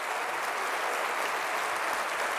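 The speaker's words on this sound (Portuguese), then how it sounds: "Quer aplaudir o Senhor, aplauda." A church congregation at a Sunday evening service applauds, a dense steady wash of clapping from many hands that continues evenly throughout.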